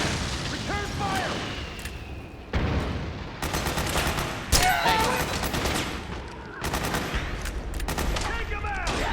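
Dense gunfire exchange in Metal Gear Solid 4: Guns of the Patriots, with overlapping rifle bursts, rapid automatic fire and heavy blasts that continue almost without pause at a loud, close level.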